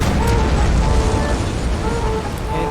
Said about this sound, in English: Let's test out this turret on some Pomovian sloops.